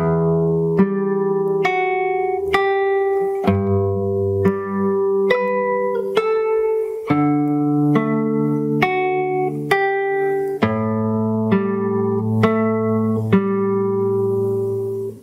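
Fingerstyle guitar picks a melody, clear single notes over open-string bass tones in a steady, unhurried phrase, close and solo with no talking.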